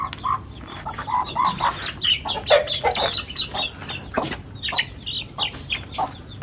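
Chickens cluck in a poultry yard of Aseel birds being treated for lice, the busy overlapping clucks and short calls running steadily throughout at close range with no talk.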